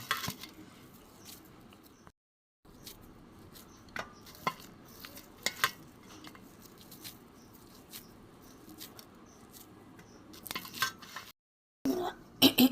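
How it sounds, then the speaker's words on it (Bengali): Rested wheat-flour dough cut into small portions, heard as scattered close clicks and soft cutting taps on a quiet background, with a couple of brief silent gaps. "এবার আমি এর থেকে ছোট ছোট করে লেচি কেটে নেব।"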